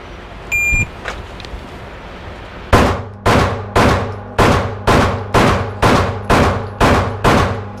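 Ten pistol shots fired at a B8 target on a range, a rapid, evenly spaced string of loud sharp cracks, close and clear, following a couple of faint beeps.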